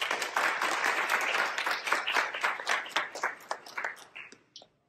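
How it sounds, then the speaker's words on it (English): An audience at a data science conference talk applauds with dense clapping that holds steady, then thins into scattered individual claps and stops. "Let's give a big round of applause for him."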